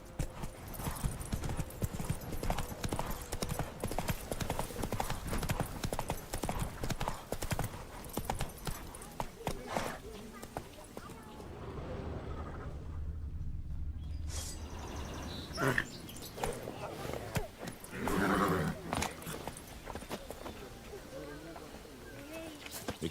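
Roach the horse trots along in The Witcher 3, hooves clip-clopping in a steady rhythm over ground, with birds chirping and a voice speaking in between.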